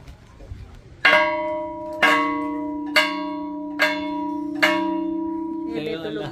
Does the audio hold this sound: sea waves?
no